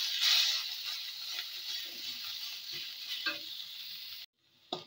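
Kharkol leaves sizzle softly in hot oil with cumin, a bright, steady hiss and a few light scrapes, then the sound drops away to near silence with a brief clatter.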